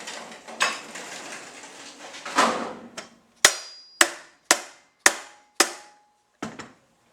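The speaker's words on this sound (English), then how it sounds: "You may need to tap this down with a soft base hammer." Sharp soft-faced hammer taps strike one after another at an even pace, about six in a row, following some earlier scraping and handling noise, while fitting a brush holder onto an edger.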